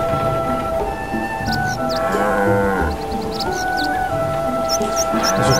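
Cartoonish cows low in a cow race in the Final Fantasy Crystal Chronicles video game, drawn-out moos layered over game music and squeaky effects, loud and continuous.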